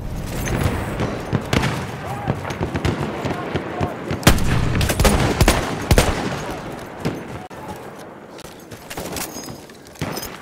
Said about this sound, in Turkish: Düşman makine tüfeği göründü.